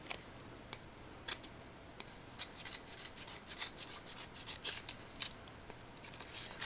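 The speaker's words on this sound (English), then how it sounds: "Kind of got my scissors on the edge of the oval that's on that inside." Scissors snip and rasp through decorative paper along an oval edge for a crochet-flower placard, with a few separate cuts early and then a quick run of close, crisp snips. No one speaks.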